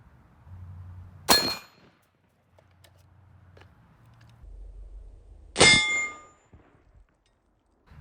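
Rifle bullets strike a steel target, fired from a 10.3-inch barrel with XM193 ammunition. Two sharp, ringing metallic clangs land several seconds apart, each decaying over a moment, with quiet low rumble between them.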